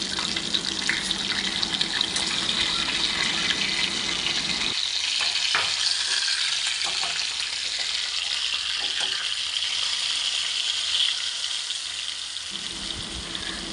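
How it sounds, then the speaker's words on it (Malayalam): Fresh karimeen, Kerala pearl spot fish, frying in hot oil, a loud continuous hiss and sizzle with scattered pops, close and steady throughout, no talking. "മീൻ പൊരിക്കാൻ നേരത്ത്"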